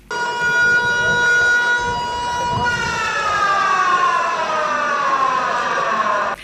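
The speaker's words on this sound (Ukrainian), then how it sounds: "Запрацювали сирени, поки що навчальні." A loud wailing siren from a school emergency drill holds steady, then its pitch slowly falls, with a dense layer of noise beneath it.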